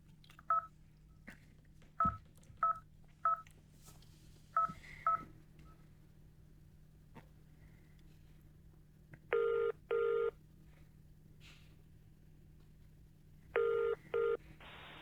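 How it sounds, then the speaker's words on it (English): Touch-tone phone beeps sound as a series of short separate tones, followed by two clusters of brief electronic ringtone bursts against a quiet background with faint low hum. "That same ringtone."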